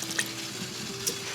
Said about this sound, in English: we are going to add in half a cup of non-dairy milk. Mine is soy.